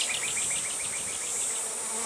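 An escaped honey bee buzzes close by during a varroa mite alcohol wash, giving a steady, continuous hum for about two seconds with no voices.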